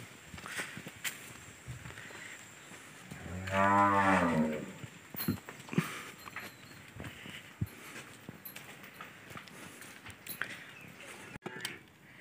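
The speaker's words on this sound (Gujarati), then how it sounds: "ભાંભરે હે ગાયું" Cattle on a farm give one loud, drawn-out moo near the start, then only quiet shuffling, footsteps and light knocks around the animals in a calm setting.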